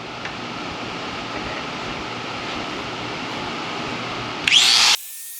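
A power tool cuts into a car's metal floor panel during footwell repair, a steady mid-loud whir that rises toward the end and finishes in a short harsh high-pitched burst before stopping abruptly.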